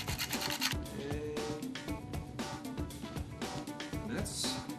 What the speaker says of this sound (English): we're gonna freshly grate just a little bit of cinnamon on top